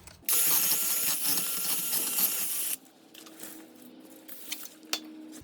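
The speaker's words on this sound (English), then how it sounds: "we just want to clean this up on the wheel hub here with a wire brush" A wire brush scrubs corrosion off the rear wheel hub of a Hyundai Santa Fe, a close, harsh rapid scratching for about two and a half seconds, then stopping, followed by faint clicks and taps.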